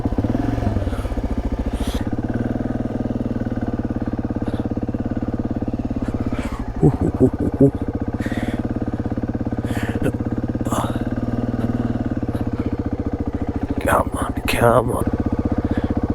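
A motorcycle engine runs loud and close while the bike is wrestled out of a tight spot, its steady idle rising in a few revs with clatter and clunks; someone speaks briefly over it.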